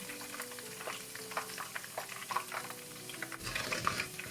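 Popcorn chicken coated in potato starch fries in hot oil, giving a quiet, steady crackle and sizzle with scattered pops and no talk.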